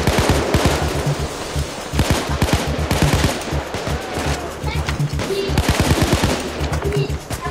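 Payday 2 gunfire, mostly rapid machine-gun bursts, fires in a loud, close, nearly continuous rattle with short gaps, while a person talks now and then over the shooting.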